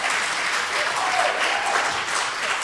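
A church congregation at Sunday worship claps steadily, a dense and loud wash of many hands applauding continuously without pause.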